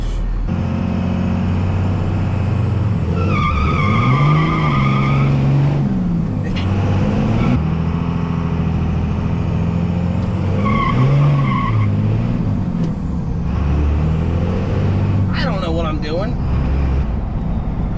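A second-generation Cummins diesel pickup truck with a brand new clutch makes boosted launch attempts, its engine revving up and falling back in three separate loud surges, with whining tones rising over a heavy low rumble close by.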